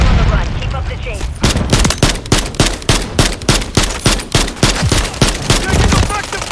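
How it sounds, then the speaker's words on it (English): Rapid automatic gunfire in Call of Duty MW3 on Xbox: loud, close, evenly spaced shots rattling in a steady stream for several seconds. "Taking effective fire."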